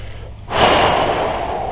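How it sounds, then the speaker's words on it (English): A single loud, breathy exhale comes in suddenly and holds steady as noisy air close to the mic during a yoga knee stretch. It starts after a quiet stretch of room noise. "Breathing."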